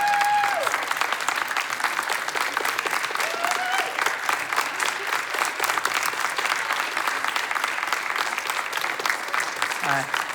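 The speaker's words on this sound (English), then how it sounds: "one round of applause for everybody up here" An audience applauds after a comedy show, sustained and even clapping filling the room, with a few cheers and voices mixed into the continuous crowd noise.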